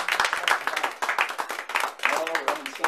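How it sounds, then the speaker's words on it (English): Audience applause in a wine cellar at a close-up magic performance, a dense patter of many hands clapping steadily for about three seconds, close and lively with no talk over it. "give him a round of applause"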